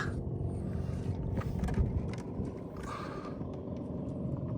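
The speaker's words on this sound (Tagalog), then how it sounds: "Kaya rinig nyo naman yung andar ng mga makina." Steady low engine rumble of small fishing boats running as they head out to sea, a continuous droning hum with some wind noise, no voices.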